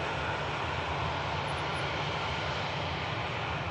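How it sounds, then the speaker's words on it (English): Boeing Dreamliner jet airliner at Manchester Airport bound for Abu Dhabi, a continuous, loud and even engine roar with no talk over it. "Dreamliner, ready to head back to the Middle East,"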